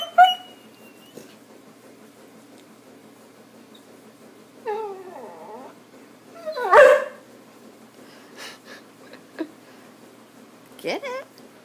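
A dog barks and whimpers in short bursts, with one louder bark cluster in the middle and a few yips later, while a person talks nearby between the sounds.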